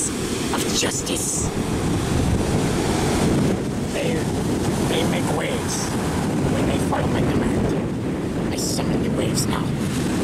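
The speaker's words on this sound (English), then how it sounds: "And over here is the waves of justice." Steady roar of ocean surf in a Tails coast video game, waves washing continuously with wind-like hiss throughout, loud and close, with a few brief higher game effects scattered over it.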